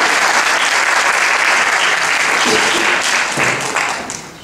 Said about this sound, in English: Give me a big round of applause, come on.